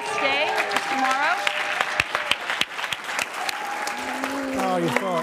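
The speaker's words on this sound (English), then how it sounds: "I want a loud round of applause for my colleague, John Bracken" An audience at a Knight Foundation event applauds a departing colleague, a dense round of clapping with whoops and cheering voices rising over it, plus a few sharper individual claps standing out near the mic.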